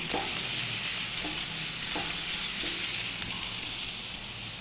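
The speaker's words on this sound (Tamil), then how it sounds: "நல்ல பொடியா நறுக்கின வெங்காயம். இப்போ இது வந்து கொஞ்சம் குக் ஆகணும்." Finely chopped onion fries in a pan with fennel and ginger-garlic paste. It gives a steady, loud sizzle throughout, with a few soft stirring scrapes and no talking.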